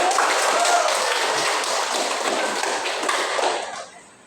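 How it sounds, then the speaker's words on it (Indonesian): A classroom of students claps together in a dense, loud patter that holds steady for a few seconds and then fades out quickly. "Jadi tepuk tangan dulu"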